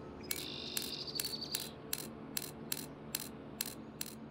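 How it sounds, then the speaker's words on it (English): A torque wrench ratchets on a farm machine repair in Farming Simulator 22, giving a steady series of about ten crisp, evenly spaced clicks, close and clear over a low background hum. "let's grab our torque wrench."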